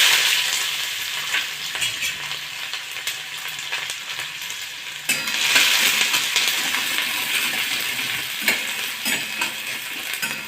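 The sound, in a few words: onion added to hot oil, sizzling and stirring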